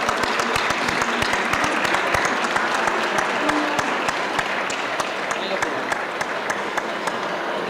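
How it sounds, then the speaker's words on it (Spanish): A large audience applauds steadily to welcome a folk trovo singer at a tourism fair stand, dense sustained clapping throughout at even loudness, with voices faintly mixed in. "Vamos a recibirlo con un aplauso."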